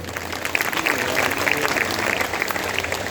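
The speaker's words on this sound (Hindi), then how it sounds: "इसलिए संतों के लिए जोरदार तालियां बजाइए।" A crowd at a Bhagwat Katha religious gathering claps loudly for the saints, a dense, steady roar of many hands that carries on evenly without a break.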